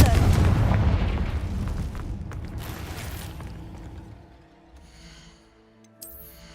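A Confringo fire-blast spell explodes in Hogwarts Legacy, starting as a loud, deep blast that rumbles and fades slowly over several seconds before a faint clatter near the end.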